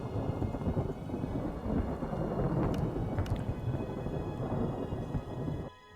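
Thunderstorm weather in modded Minecraft: steady heavy rain hiss with a low rumble of thunder rolling throughout and a couple of brief crackles, cutting off at the end.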